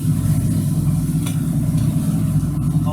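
A boat's engine rumbles steadily at close range as it is pushed to full ahead while leaving a dock, a deep continuous drone with no voices.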